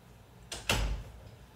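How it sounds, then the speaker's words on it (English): A door opens as someone comes in at a home where an air conditioner is being repaired, a short rattle followed by a louder knock and scrape, close and isolated against a quiet room. "That's just someone coming in the door."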